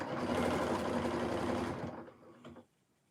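A sewing machine stitches a quilt triangle in a fast, steady whirring run of about two seconds, then slows and stops with a small click before quiet.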